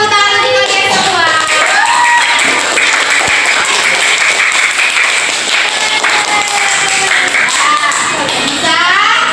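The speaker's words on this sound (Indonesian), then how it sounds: "Beri tepuk tangan untuk kalian semua" Classroom of fifth-grade pupils applauding together, dense clapping mixed with children's shouts and cheers throughout, loud and close, with voices calling out over it.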